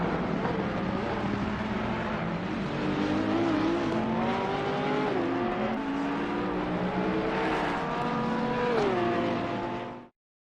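A Porsche race car engine in Assetto Corsa Competizione at Zolder, loud and continuous, rising and falling in pitch through gear shifts as it closes on a rival, then cutting off abruptly at the end.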